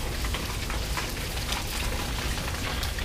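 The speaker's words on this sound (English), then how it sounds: "it's still raining" Steady rain falling on a backyard in Merida, Mexico, a loud, dense, even hiss of drops on surfaces throughout with no other sounds.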